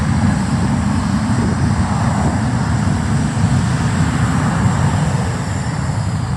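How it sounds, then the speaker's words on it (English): A Jet2 airliner takes off from the far runway at Manchester Airport, a constant broad engine roar that stays loud and even throughout, heard at a distance. "Jet2 taking off on the far runway."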